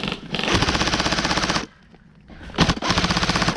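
Airsoft guns firing in rapid full-auto bursts during a game at an airsoft field, loud and close, a long rattling stream that breaks off briefly before a second burst resumes.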